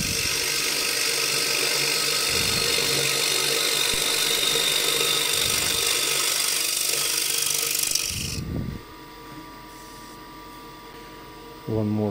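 A woodturning lathe spins with a constant hum while a tool cuts a flowing curve into the wood, producing rough scraping bursts that cut off near the end and leave a quieter motor hum with a brief knock.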